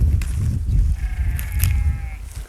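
Goats bleat out in the open amid rumbling wind, with a few drawn-out nasal calls in the middle and faint background noise.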